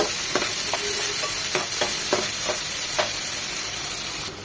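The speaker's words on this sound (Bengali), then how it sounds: "তো জাস্ট 1 মিনিট এই তেলের মধ্যে একটু ভেজে নেব" Small chopped shrimp frying in hot oil, giving a steady close sizzle and hiss with occasional scraping clicks of stirring, and no voices.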